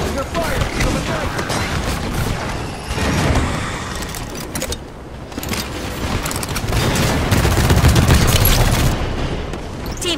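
Continuous dense gunfire and explosions in Halo 5 Warzone Turbo combat, a steady loud wash of shots and booms with no real gaps throughout.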